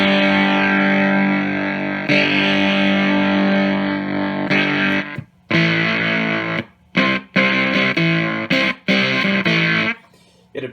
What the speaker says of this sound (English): you can get those really nasty Velcro-y type tones